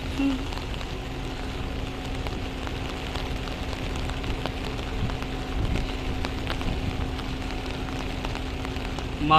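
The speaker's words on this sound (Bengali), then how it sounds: "এখন প্রচুর বৃষ্টি হচ্ছে" Heavy rain pattering steadily on a surface near a rough river by Payra port, a dense, even wash of drops with a faint low hum underneath, fairly quiet and distant.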